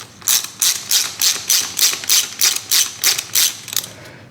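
A ratchet clicks through about ten steady, even strokes, loud and close, backing out 6mm Allen bolts from the brake caliper of a 2000 Kawasaki KX125.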